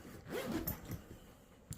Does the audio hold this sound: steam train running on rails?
no